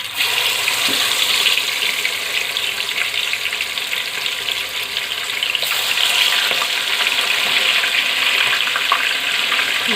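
Chicken pieces frying in hot oil make a steady, loud, dense sizzle that runs on unbroken and close up, with occasional faint pops, and no talking.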